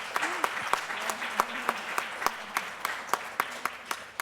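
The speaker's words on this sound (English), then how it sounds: "So give them a round of applause." Audience applause at a professional development institute, with sharp regular clap-like transients over a steady crowd wash and some voices underneath, sustained throughout.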